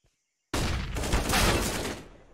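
A single heavy burst of gunfire in a competitive shooter video game, a sudden loud blast that swells into a dense roaring crackle for about a second and a half before cutting off.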